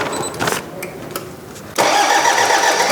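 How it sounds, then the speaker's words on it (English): A used 4x4's engine is cranked and catches, settling into a loud, steady idle after a second or so of quieter shuffling and clicks, heard up close. "So we'll start the car and then you just go ahead and make the test for us."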